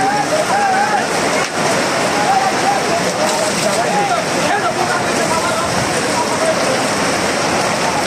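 Steady, heavy rain pouring down on a cattle market, a dense hiss filling the whole clip, with a faint voice or animal call partly buried beneath it.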